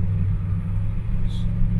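Car rolling down the road, heard from inside as a steady low engine and road rumble that holds evenly throughout with no distinct revving, close and continuous.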